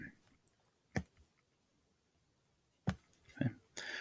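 A few computer mouse clicks, sharp and close, in sparse irregular bursts of single and double clicks separated by near silence.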